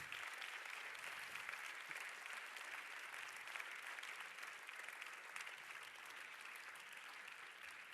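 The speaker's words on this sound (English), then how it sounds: "A big round of applause for everybody." Sustained audience applause at a LUX Audience Award ceremony following a standing ovation, a dense, even clapping texture from a large crowd holding steady throughout without pause.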